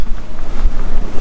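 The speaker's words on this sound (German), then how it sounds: "Der Wind liegt vielleicht so bei 12 Knoten plus 5 Knoten Fahrt" Wind blowing across a sailing boat at sea during an ocean crossing from St. Maarten to the Azores, a loud, steady buffeting rush of wind noise with low rumbling gusts and no speech.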